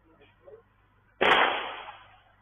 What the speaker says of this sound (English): He shoots twice at Joseph Nee, standing over him, tries to fire a third shot.